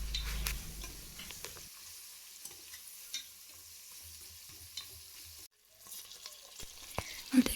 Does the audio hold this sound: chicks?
no